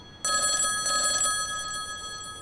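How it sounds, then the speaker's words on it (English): A public phone terminal's bell rings insistently in two long bursts of bright, sustained metallic tone, loud and near, with no one speaking. "There's this bell that's ringing insistently, and for some reason it seems to draw you towards it."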